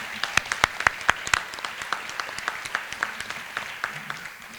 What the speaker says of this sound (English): So could we give them a round of applause, please?